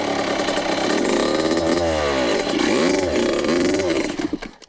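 A Yamaha YZ65 dirt bike engine revs up and down close by, its pitch rising and falling in several sweeps as a learner works the throttle and clutch, before cutting off abruptly at the end.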